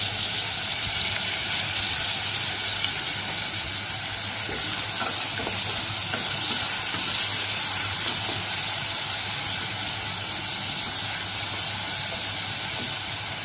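Onions salted lightly and frying in a pan for a chapila fish curry give off a steady, continuous hissing sizzle that stays even throughout, with no talking.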